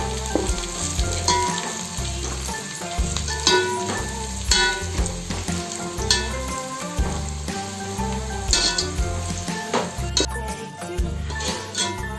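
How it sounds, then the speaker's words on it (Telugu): Thinly sliced onions frying in ghee until brown, a loud, continuous close sizzle with crackling and occasional stirring scrapes throughout, no talking. "ఆనియన్స్ బ్రౌన్ కలర్ వచ్చేదాకా ఫ్రై చేద్దాం"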